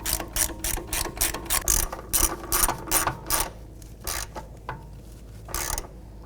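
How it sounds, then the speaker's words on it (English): Hand ratchet with a 10mm socket tightening bolts on a 2007-2013 Acura MDX wheel hub, a rapid series of close, crisp clicking strokes that slows and thins toward the end, with no talking. "We can go ahead and tighten these down. 10mm socket. Tighten these up."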